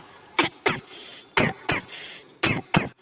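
A series of six sharp, dry coughs in quick pairs, close and fairly loud, with short pauses between bursts.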